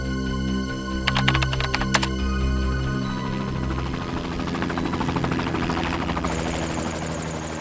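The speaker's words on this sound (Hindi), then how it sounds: "सर, कहीं ये हेलीकॉप्टर की आवाज तो नहीं है?" Steady helicopter rotor thump and engine drone with a rhythmic chop that persists throughout, mixed with clicking sounds early on.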